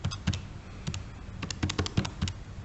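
Keys on a calculator tapped to enter an algebra expression, a quick irregular run of light clicks and presses, close and fairly quiet with no voice.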